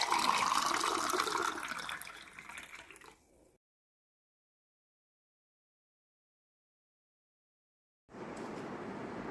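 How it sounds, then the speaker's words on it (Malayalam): Boiled butterfly pea flower herbal tea poured into a cup with honey, a close, splashing trickle that tapers off after a few seconds, then silence before faint background noise returns. "ശംഖുപുഷ്പം ടീ ഒഴിക്കുക."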